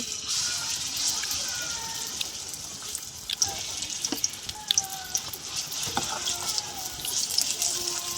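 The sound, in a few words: carrot and cauliflower paratha filling frying in oil in a wok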